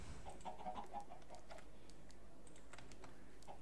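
Chickens clucking in the Minecraft video game, faint short clucks early on under steady keyboard typing and a constant low background hum.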